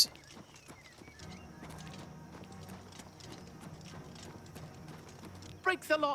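Steady clip-clop of horse hooves at a walking pace in The Elder Scrolls IV: Oblivion Remastered, with game music and some talking underneath, ending in a brief louder burst.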